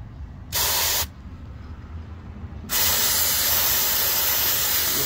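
Short bursts of QRC QD electronic parts cleaner hiss from an aerosol can onto an RTX 4090 graphics card: a brief half-second spray, a pause, then a loud sustained spray that continues to the end.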